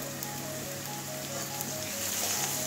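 Ginger garlic paste frying with spices in oil makes a soft, continuous sizzle, even and fairly faint throughout, with no talk or stirring accents.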